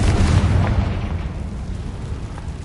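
A Confringo spell explosion in Hogwarts Legacy, a loud deep boom with rumbling blast noise that decays over a couple of seconds, no talking.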